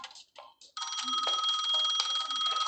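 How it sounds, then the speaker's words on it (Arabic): A phone rings inside a prison escape video game, a loud continuous electronic bell-like trill sustained for about two seconds after a few short choppy bursts, heard alone without talk. "تلفوني بيرن"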